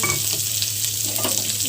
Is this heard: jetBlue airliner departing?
no